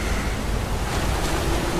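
Steady rushing roar of a waterfall in the Skyrim VR game world, a continuous broadband wash of falling water that stays even and fairly loud throughout, with no voices over it.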